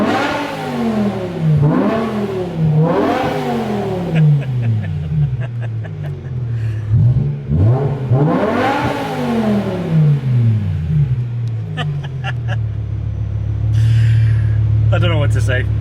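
A BMW E60 M5 with an Eisenmann race exhaust revving repeatedly, sharp rising and falling engine sweeps in several loud bursts before settling to a steady drone, with people talking over it.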